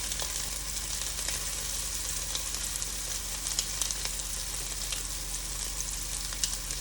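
Meatballs fry in a hot pan with a steady, hissing sizzle and occasional small pops and spits, continuous and fairly quiet at close range, with no talking.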